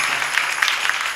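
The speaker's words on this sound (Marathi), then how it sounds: "जोरात टाळ्या वाजा" An audience at a devotional kirtan gathering claps loudly in a steady burst of many hands, dense and sustained throughout.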